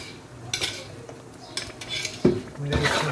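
Ghee-laden dish being stirred in a pot, a metal spoon scraping and clanking against the sides in irregular bursts, fairly close and alone with no talk.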